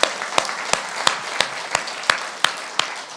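A church congregation claps in unison during a Korean sermon, making sharp, evenly spaced rhythmic claps about three per second over a quiet background.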